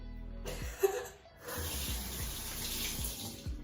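Water runs from a bathroom sink tap to wet skin during a skincare routine. It starts, pauses briefly, then gushes steadily and close by, with a faint laugh in the background.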